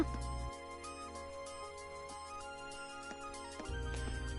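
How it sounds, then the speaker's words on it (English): A cell phone rings inside the video game Trails of Cold Steel, a bright repeating electronic ringtone over the game's background music, steady and fairly quiet. "We got a phone call."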